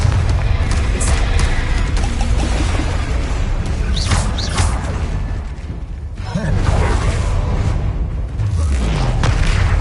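Confringo, a fire-blast spell in the Hogwarts Legacy video game, sends out a booming, rumbling burst amid constant dense battle noise, loud and close, with a brief dip before the roar resumes.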